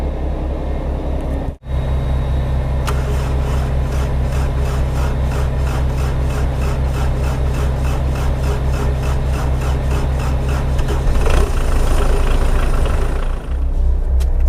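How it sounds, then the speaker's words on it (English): A Cat 304 mini excavator engine cranks slowly with a steady, labored rhythmic churn from the starter, loud and close, continuing without catching throughout. "This thing always cranks so slow, but it always starts."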